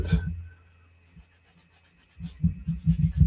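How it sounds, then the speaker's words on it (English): A chisel scrapes mold line material off a plastic Atreides Ornithopter model kit part, short close rasping strokes in quick repeated bursts with brief pauses, quiet and alone. "just by using the chisel, I can kind of remove some material rather quickly"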